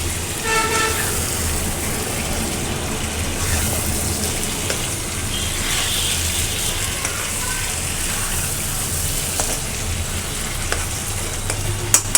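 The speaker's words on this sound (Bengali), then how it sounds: "আর এখানে হচ্ছে চাউলটা আমি ভুনবো" Rice fries in hot oil for biryani, giving a steady, loud, close sizzle that runs unbroken throughout, with occasional light clinks of stirring.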